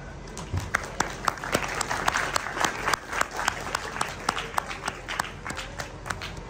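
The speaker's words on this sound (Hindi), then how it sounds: "प्लीज़ भरपूर तालियों में निसार साहब।" Seminar attendees at a poultry awareness event applaud a guest speaker, dense sustained clapping from a crowd with sharper individual claps standing out throughout.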